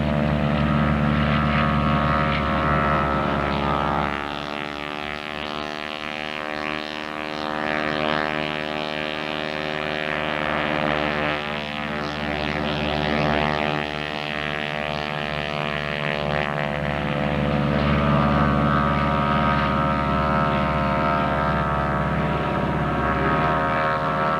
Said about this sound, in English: As the aircraft leave the ground